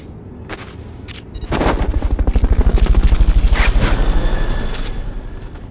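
A helicopter thumps loudly during a Fulton recovery in Metal Gear Solid: Peace Walker. Rapid, heavy rotor beats build in and pulse steadily before easing slightly, with sharp bursts at the start.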